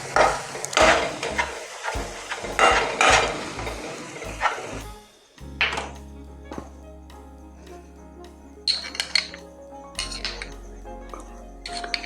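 Khoa peda mixture with cornflour roasting and being stirred in a pan for kandi peda, with soft sizzling and repeated scraping strokes, later a few metal clinks of utensils against the pan.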